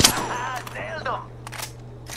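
Video game gunfire cracks in several short bursts of sharp shots, spread across the moment, with someone talking over them.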